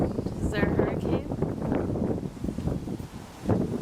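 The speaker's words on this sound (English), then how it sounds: "it's 'cause really windy" Gusty wind in Florida buffets the microphone in loud, rumbling bursts while people talk over it close by.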